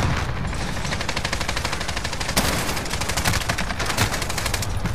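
Light machine gun fire in a video game: a steady, rapid, evenly spaced stream of shots, loud and close, running unbroken for the whole stretch with no talk.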